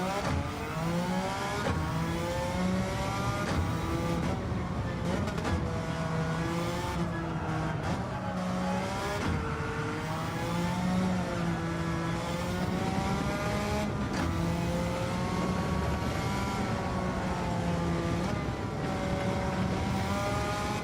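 A Suzuki Escudo races in Gran Turismo 7, its engine droning loud and steady throughout, with pitch rising and falling through repeated revving and gear shifts.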